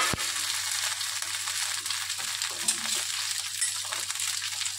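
Ivy gourd (tondli) pieces fry in hot oil in a kadhai, giving a steady bright sizzle throughout with a sharp clink at the start and faint stirring scrapes.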